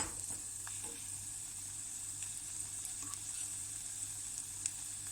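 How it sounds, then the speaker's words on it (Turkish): An egg fries in olive oil in a pan, giving a steady, soft sizzle and crackle that carries evenly throughout with occasional small pops and no voices. "zeytinyağın içerisine bir tane yumurta kırdım ve bu şekilde pişiriyorum"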